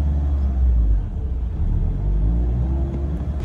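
A manual-transmission car pulls away as the clutch is let out, a low engine rumble swelling briefly then settling into a steady drone.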